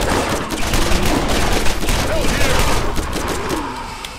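Fire guns in Borderlands, a video game, loose rapid, continuous bursts of loud gunfire that keep up for several seconds over dense game noise.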